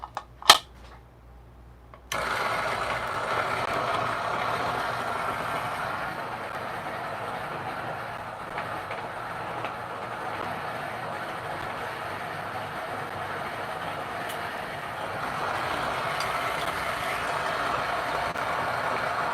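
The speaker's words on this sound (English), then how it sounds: "So got my niche grinder. Let's grind some coffee beans." A Niche coffee grinder grinds 16 grams of coffee beans at a setting around 12. After about two seconds of near quiet it settles into a loud, steady whirring grind that runs unbroken to the end.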